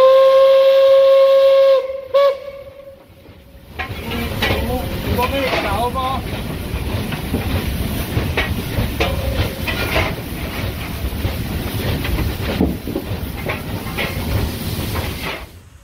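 Steam locomotive 23 058 arriving at Stockach station on the reactivated Ablachtalbahn line: a loud, sustained steam whistle blast, then a pause and a rolling, chuffing train rumble with hissing steam and occasional talk beneath.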